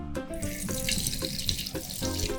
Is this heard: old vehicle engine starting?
no